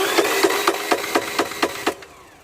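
A Ford Mondeo 1.8 Duratorq diesel engine cranks without starting, a fast, even run of about eight loud rhythmic starter pulses over two seconds before stopping.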